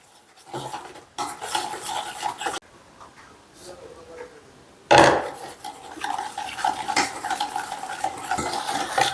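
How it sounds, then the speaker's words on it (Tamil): Sugar being mixed into butter in a bowl for homemade cookie dough, with scraping, stirring rasps in uneven bursts, close and fairly loud, pausing briefly between rounds. "சர்க்கரையை ரெண்டு தடவையாக போட்டு நல்லா மிக்ஸ் பண்ணிக்கலாம்"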